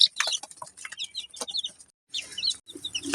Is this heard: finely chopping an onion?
no